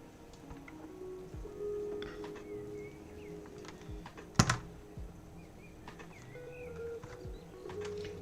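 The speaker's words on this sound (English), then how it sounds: "Nice to hear the birds chirping out there." Songbirds chirp in short, scattered bursts outside during a summer day near a large woods, faint and intermittent against steady indoor room noise, with one sharp click partway through.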